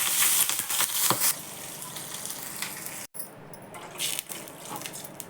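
Cumin, mustard seeds, salt, green chilli and curry leaves crackle and sizzle in hot oil in a small kadhai, with bursts of popping early on that settle into a softer, steady hiss.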